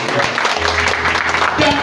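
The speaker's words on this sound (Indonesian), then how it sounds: "Berikan sorak-sorai yang meriah bagi kemuliaan." A church congregation cheers and claps together in a steady, dense wash of applause, loud and close, with voices shouting over the clapping throughout.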